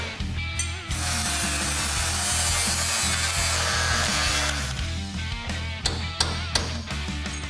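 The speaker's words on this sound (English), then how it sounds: "we'll use the cutoff wheel to remove the extra metal" Cutoff wheel slicing excess metal off a Ram truck cab mount, a loud continuous high-pitched grinding screech for several seconds over a humming motor, then short bursts as the cut finishes.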